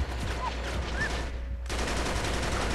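Sustained enemy turret gunfire from an Uncharted 3 firefight in a settlement, a dense continuous rattle of shots that cuts out briefly near the middle before resuming just as loud.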